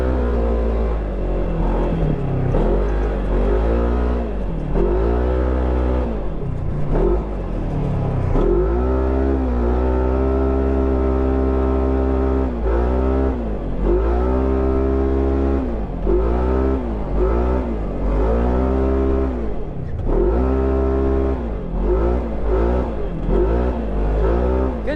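Aftermarket-exhausted side-by-side off-road vehicle driving on a snowy winter rally-style trail, its engine revving hard in repeated rising and falling surges, loud and close throughout with no talking.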